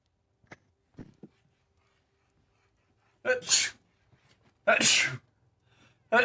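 Two loud, explosive sneezes from a person with allergies burst out around the middle, with a third starting at the end, preceded by a few faint clicks and breaths in an otherwise quiet room.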